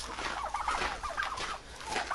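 Several turkeys gobbling in quick warbling bursts, close by, one call after another over a steady background noise, with no talking.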